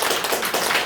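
An audience of adults clapping, a quick run of close, moderately loud claps lasting under a second.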